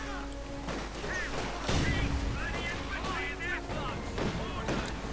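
Heavy .50 caliber machine gun fire in Company of Heroes 2 rattles in bursts amid booming battlefield explosions, with in-game voices chattering over the dense, continuous combat din.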